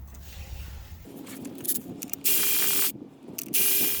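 Hand ratchet backing out transmission pan bolts on a Toyota Corolla, close up: short bursts of rapid pawl clicking, with longer bright ratcheting runs separated by brief pauses, no talk.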